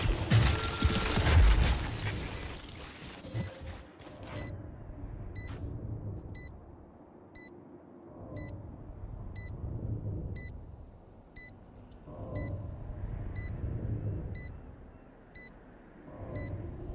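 In the Valorant game, a planted spike emits a regular series of short, high-pitched beeps over a low rumble, with an opening burst of game noise that fades before the beeping continues steadily.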